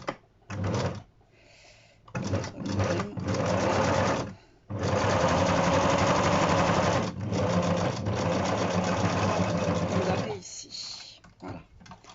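A sewing machine stitches fabric up close in loud rapid whirring runs, several short bursts then a long sustained run, separated by brief stops, with a voice talking in the pauses.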